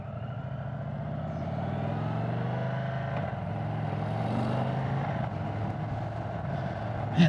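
A 2023 Indian Sport Chief 116 cruiser motorcycle accelerates hard, its big V-twin engine sending out a steady, loud, throaty low rumble that swells and holds on the throttle throughout.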